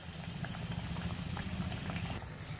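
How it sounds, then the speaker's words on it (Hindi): Hyderabadi lukhmi kababs deep frying in a batch of hot oil over a medium flame, a steady close bubbling and crackling that fills the whole stretch alone. "अब हम इसे डीप फ्राई करेंगे. ऑयल हॉट हो चुका है."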